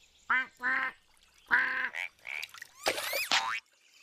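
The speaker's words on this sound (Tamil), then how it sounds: "ஒரு தவளை இன்னொரு தவளையை அழைத்தது." A cartoon frog croaks to call another frog in a sequence of comic calls, several separate quacking, boinging croaks with pauses between them, close and clear, with no talk over them.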